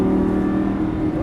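A Lamborghini Gallardo LP550 engine pulls steadily under throttle, a loud sustained droning hum with a gently rising pitch and no voices.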